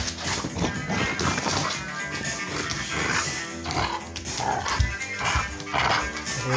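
A playful pit bull growls and whimpers through close, dense, rough noise in a continuous stretch, with grunting bursts and scuffling but no talk.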